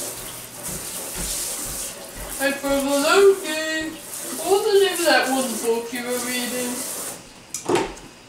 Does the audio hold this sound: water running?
yes